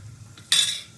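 Whole dried red chili and cumin seeds hit hot oil with a sudden, close sizzling hiss that holds steady and then slowly eases off, with a faint clink just before.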